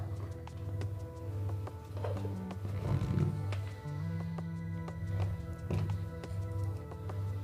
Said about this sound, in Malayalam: എന്നിട്ട് നന്നായിട്ടൊന്ന് അരച്ചെടുക്കാം.